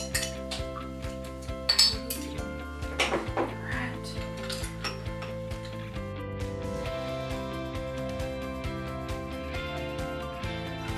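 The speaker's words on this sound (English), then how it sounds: "we're going to add our ice" Ice cubes clatter and clink into a glass for a highball cocktail, a few sharp knocks near the start over a steady music bed, with no talking.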